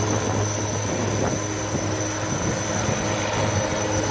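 A steady, loud navy helicopter engine drone with a constant whine, continuous throughout and close by, at a Navy Day event in Visakhapatnam.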